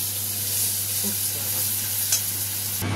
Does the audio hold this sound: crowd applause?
no